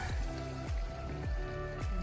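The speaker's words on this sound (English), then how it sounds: "Bubbling right up." Water bubbling up from the ground beside a river in a mountain basin, a quiet series of gurgling, plopping bubbles popping at irregular intervals, faint and close, with no talking.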